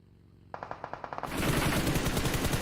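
PUBG Mobile gunfire in a pro league match, a weapon sprayed through smoke: a quick string of sharp separate shots, then a dense, loud, continuous barrage of overlapping fire.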